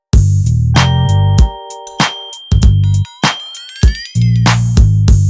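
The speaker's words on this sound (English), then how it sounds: "the first thing you hear is this electric piano that hits on the 2s," An electric piano stabs chords on the off-beats of a hip-hop beat recreating the GTA San Andreas theme, with punchy drums and bass underneath; loud, clean studio mix with no voices.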